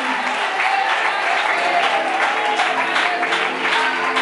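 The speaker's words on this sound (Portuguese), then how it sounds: "Eu quero as palmas para Jesus, a palma bem forte" A church congregation at an evangelical service claps strongly for Jesus, a dense, steady wash of many hands that fills the whole stretch, with faint sustained tones underneath.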